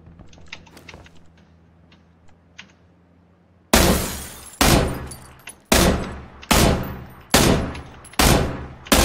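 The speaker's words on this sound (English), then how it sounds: "Who are you shooting at?" Gunfire in PUBG: six loud, close shots in a steady rhythm, each sharp crack followed by a decaying tail. Faint scattered clicks come before them.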